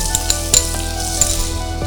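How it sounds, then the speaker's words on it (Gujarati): Finely chopped onion fries in about two tablespoons of oil with cumin and mustard seeds in a pressure cooker, a steady close sizzle with light crackles and faint stirring. "ને કાંદાને થોડીક વાર ચડવા દેશું।"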